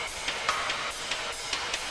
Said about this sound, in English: I just kind of cut out all the kicks and snares, distorted it, and then sidechained it.